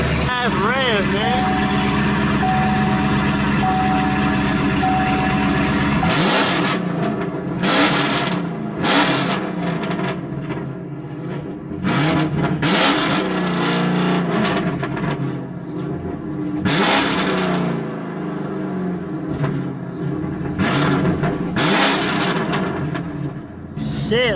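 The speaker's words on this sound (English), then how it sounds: "Let me rev it, bro." A car engine revs repeatedly, rising and falling in loud bursts close by, with voices talking over it.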